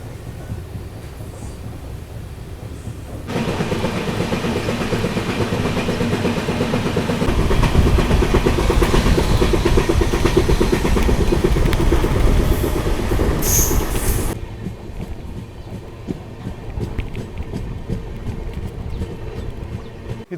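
Yesvantpur–Sindhanur Express with LHB coaches on the Ginigera–Sindhanur line: a continuous rail roar builds louder mid-way with brief wheel squeal, then eases to a quieter rolling rumble.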